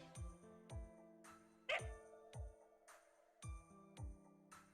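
A dog barks in the game Fate/Grand Order, several short evenly spaced woofs repeating across the span, each clear and fairly close, with one sharper yip in the middle.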